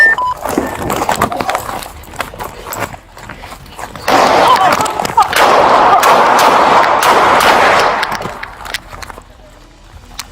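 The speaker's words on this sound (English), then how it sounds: "Shots fired. Shots fired." Gunfire rings out during a police shootout recorded on a dashcam: loud, sharp cracks come in quick irregular bursts, followed by a dense, noisy stretch of chaotic sound before fading to scattered pops.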